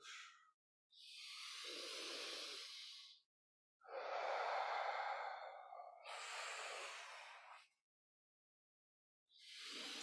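Slow, smooth breaths drawn in and let out during a core-stability breathing exercise, several long airy pushes separated by short silences, close and quiet with no talking.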